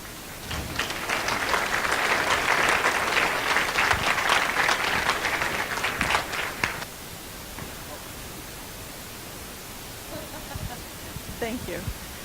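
Audience applause for Mary Fergurson at a school district committee thank-you event, a dense steady burst of clapping for about seven seconds that then stops, leaving quiet room tone and a few faint sounds.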